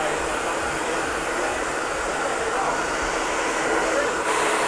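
A hair dryer blowing on a short men's soccer-style haircut during a barber session, a loud, steady airy roar close by that continues throughout with no pauses.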